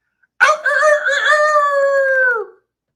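A person imitates a dog with a single drawn-out howling bark, loud and close, rising then sustained for about two seconds before trailing off.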